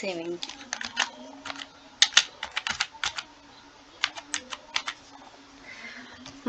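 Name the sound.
typing on a computer keyboard in MS Excel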